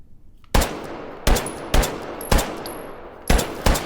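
Gunfire in the VR game Hot Dogs Horseshoes & Hand Grenades: six loud, sharp shots fired at irregular intervals, each with a ringing tail, plus faint metallic clinks between them.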